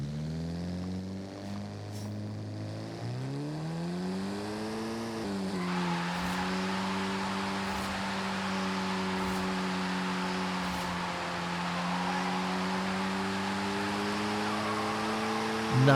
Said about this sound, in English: Nice burnout here.